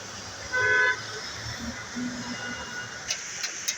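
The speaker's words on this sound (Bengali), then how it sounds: "যাই হোক রাস্তা প্রচুর জ্যাম দেখা যাচ্ছে" A single car horn toots briefly in congested city traffic on a rainy, waterlogged road, followed by a steady low rumble of engines and faint distant clatter.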